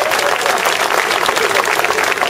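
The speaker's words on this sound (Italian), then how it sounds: "Facciamo un applauso di quelli, no?" An audience at a live comedy show in Casoli bursts into dense, sustained applause, a broad wash of clapping that fills the short moment evenly.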